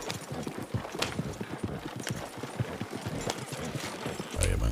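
A horse pulls a large cart, its hooves clip-clopping in a quick, steady rhythm of close, crisp strikes, with a brief rumble near the end.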